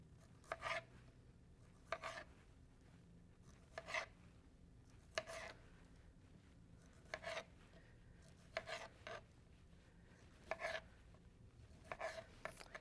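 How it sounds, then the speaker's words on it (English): A knife chopping tomatoes into quarters for a plant-based Mediterranean dish, a few quiet, crisp cuts spaced one to two seconds apart, each a short paired tap of the blade on the board. "I'm going to chop or quarter up some tomatoes"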